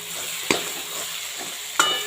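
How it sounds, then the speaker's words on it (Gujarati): A spoon stirs spices frying in a pan, with two sharp clinks against the vessel over a soft, steady sizzle. "હવે આપણે ચમચાથી મિક્સ કરી લેશું"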